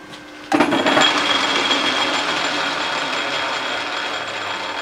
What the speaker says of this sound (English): I'm going to check it on the lathe again.